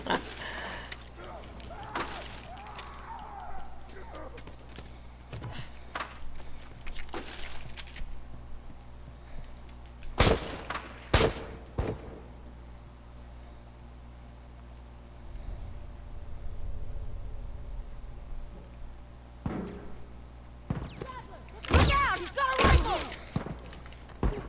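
Gunshots in The Last of Us Remastered multiplayer: a few separate sharp cracks ring out over a low game ambience, with the loudest cluster near the end and quiet stretches in between.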